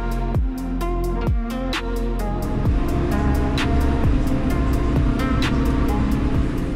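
A tractor pulls a wide Volmer disc harrow across hilly farmland, giving a steady, loud, droning engine rumble with rhythmic clanking from the discs throughout and no speech.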